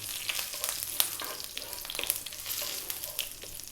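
Curry leaves spitting and sizzling in hot oil with cumin seeds for a raita tempering, a lively crackle with sharp pops over a constant frying hiss and no voices.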